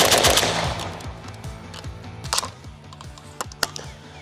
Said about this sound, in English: considering that is one of the things that really stands out about firing this gun